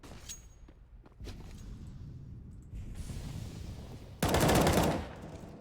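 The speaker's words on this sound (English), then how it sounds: "Braun, nice headshot onto KMZ there." Rapid gunfire in a Counter-Strike esports match on Mirage, a loud sustained burst of shots near the end over steady game ambience and footsteps.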